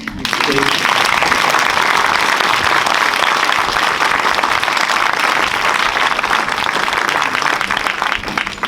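Loud, dense applause from a large audience at an international convention fills the whole stretch, steady and close throughout, with faint voices mixed underneath.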